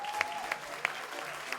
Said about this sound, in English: Give Young Devin a round of applause.